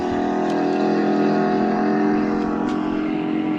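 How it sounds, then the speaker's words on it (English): Turbocharged engine of a 2024 GMC Denali Ultimate running with a steady, continuous drone and layered harmonic hum, close and fairly loud, with a couple of faint high ticks over the constant tone. "The sounds of the Turbo GMC."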